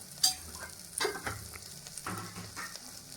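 Spices including chilli powder and coriander powder sautéed and stirred in a pan for a banana-flower kuzhambu, giving a soft continuous sizzle with a few scraping stirs and light knocks, close and fairly quiet.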